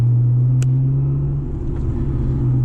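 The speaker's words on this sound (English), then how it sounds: "So I have a Pride exhaust." A 2005 Honda NSX idling through an aftermarket Pride exhaust, giving a loud, steady low droning hum, close up, with a faint click partway through and no talking.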